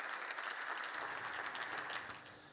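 Steady, unanimous applause fills a regional parliament chamber, a dense continuous patter of many hands heard at a distance, tapering slightly near the end.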